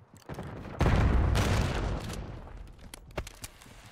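Black Ops 6 gunfire erupts in a dense, loud burst of rapid shots and blasts, then trails off into a few scattered cracks.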